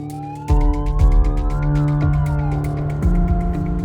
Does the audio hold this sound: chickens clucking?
no